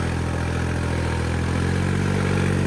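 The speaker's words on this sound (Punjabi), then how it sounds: "ਖਾਲੀ ਮਸ਼ੀਨ ਤੇ ਟਰੈਕਟਰ ਚੱਲਿਆ ਹੈਗਾ" A steady, loud tractor engine rumbles and idles continuously with a low mechanical chug and no voices, running an empty machine in wet fields.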